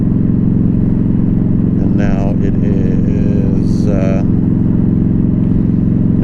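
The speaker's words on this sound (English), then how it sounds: "I put the Freedom Performance 2-in-1 Combat, and oh my dear Lord, it sounds beautiful." A 2015 Yamaha V Star 1300 Deluxe SE motorcycle fitted with a Freedom Performance 2-in-1 Combat exhaust idles with a deep, steady, loud rumble throughout, while someone talks over it.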